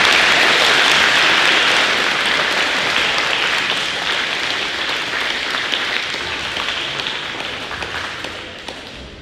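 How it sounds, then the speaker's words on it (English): A middle school audience at a 2021 academic awards ceremony applauds its teachers with loud, dense clapping that slowly thins and fades over several seconds. "give a big round of applause to your teachers"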